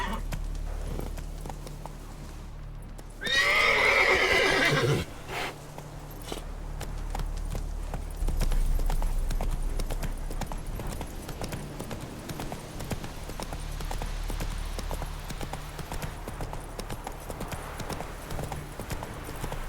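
The horse Roach in The Witcher 3 gallops with rapid, rhythmic hoof clip-clops that hold steady for most of the run, with a short burst of another sound near the start and game ambience underneath.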